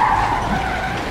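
Truck tires skid in Marvel's Spider-Man on PS4, a loud, steady screech held across the short clip with engine rumble beneath and no talk.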